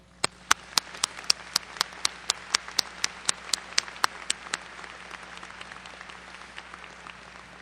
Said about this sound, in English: Would you all stand for a round of applause?